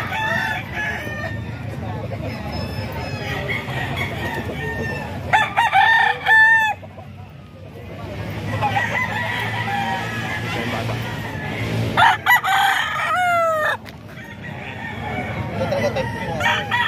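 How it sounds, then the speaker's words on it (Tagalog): Gamecocks crow repeatedly, several loud nearby cock-a-doodle-doos with clucking between them, over a background of people talking. "Ito mga manok"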